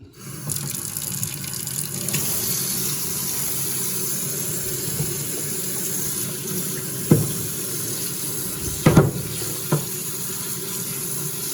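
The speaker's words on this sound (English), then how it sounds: "we're gonna take it apart, rinse it off here in the deep sink" Tap water pours steadily into a deep utility sink while plastic foam cannon parts from a pressure washer are rinsed, a continuous close hiss with a few sharp knocks and clatters near the end.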